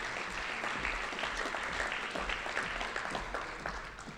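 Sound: applause for an award winner at a ceremony

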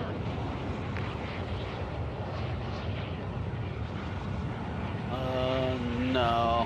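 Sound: airplane engine in video game drop

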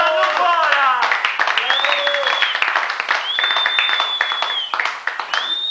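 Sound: audience applause

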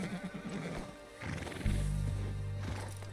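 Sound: horse whinnying in video game Red Dead Redemption 2

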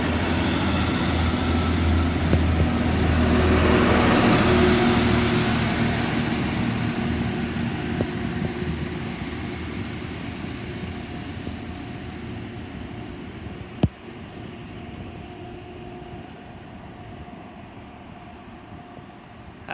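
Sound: train 950-001 departing Severn Tunnel Junction

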